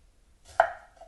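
A single crisp knife chop through an onion on a cutting board, one short close cut that fades quickly in a quiet kitchen.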